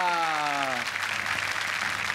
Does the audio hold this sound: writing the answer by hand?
no